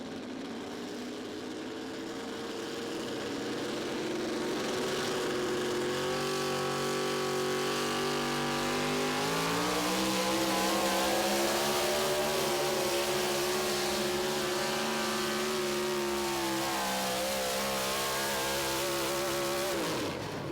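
A tractor-pulling truck engine at an NTPA pull in Tomah, Wisconsin revs loud and close, climbing steadily in pitch as the throttle rolls out, with a sustained, continuous roar that holds for about twenty seconds.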